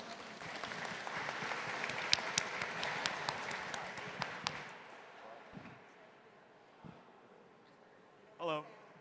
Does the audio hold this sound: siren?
no